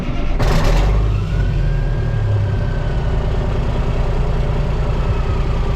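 An old vehicle's engine cranks and catches with a loud burst near the start, then settles into a steady, rough idle that runs on close by with no talk.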